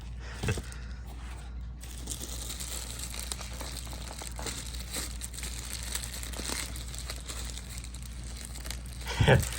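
Crinkly Amazon packaging gets unwrapped from an NG Models Southwest 737-800 model airplane, with soft rustling and a few sharper crinkles over a steady background hum.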